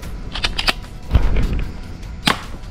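A half-metal boxed toy pellet gun fires at a cardboard target, sharp snapping shots with mechanical clicks between them, heard close and loud.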